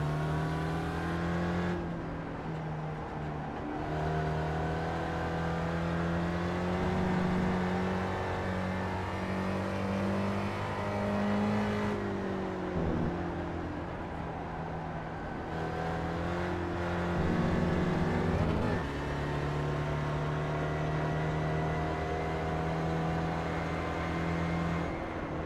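Spec Racer race car in the iRacing sim, its engine droning steadily throughout with pitch rising and falling through gear changes and corners, loud and continuous with no talk.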